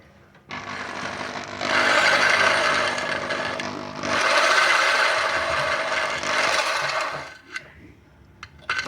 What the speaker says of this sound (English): Just run the drill in reverse.